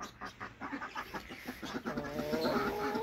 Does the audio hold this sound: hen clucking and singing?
yes